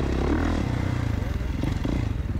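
A 2024 Kawasaki KX450 dirt bike lapping a motocross track, its engine droning loud and near with rough pulsing, clatter and scraping throughout.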